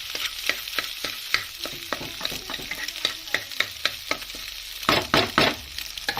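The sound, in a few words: beating three eggs in a frying pan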